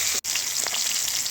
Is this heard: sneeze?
no